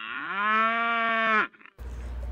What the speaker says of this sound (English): the baby cows just made a moo